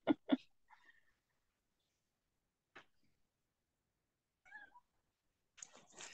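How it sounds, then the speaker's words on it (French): A small cat meows a few times, faint and somewhat distant, in a very quiet room, with short soft knocks and rustles between the calls. "Oh, c'est un petit chat qu'on entend."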